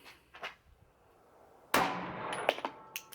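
Slow-fire shots from a Sig Sauer P365 pistol at a shooting range: one loud, sharp report with a ringing tail, plus a few fainter clanks and impacts around it, no talking.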